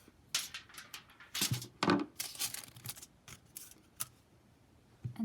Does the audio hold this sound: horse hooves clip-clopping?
no